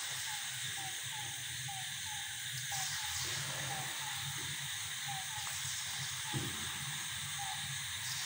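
Suzhiyam sweets fry in plenty of hot oil, giving a steady close hiss and sizzle that continues without a break, with a faint bubbling texture underneath.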